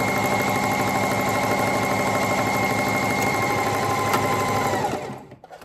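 A sewing machine stitching tutu fabric runs in a steady, fast mechanical whir with a rapid repeating pulse, close and loud, before stopping abruptly at the end.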